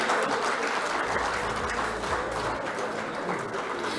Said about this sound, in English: Can we have a huge round of applause for both of them?